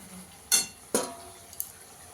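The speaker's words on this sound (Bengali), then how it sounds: "এবার পালং শাকটা 5 মিনিট পর একটু নেড়ে দিলাম" A utensil stirs spinach in a cooking pot, making two sharp metallic clinks close together, then a fainter tap against a quiet background.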